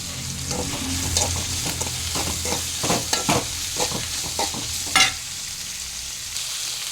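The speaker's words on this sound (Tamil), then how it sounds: "இதையும் கொஞ்சம் அந்த எண்ணெயில் கொஞ்சம் கிண்டி கொஞ்சம் வேக விட்டுக்கிட்டு" Drumstick (moringa) pieces stirred in hot oil for a stir-fry, with a steady sizzle under a series of scraping stirs and a sharper clatter near the end; no one speaks.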